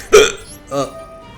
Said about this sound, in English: Hiccups are back.